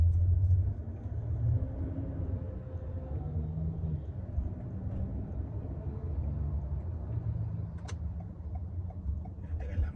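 Car traffic rolls past steadily in a school zone at dismissal time, a constant low rumble of engines and tires at moderate distance with no clear gaps.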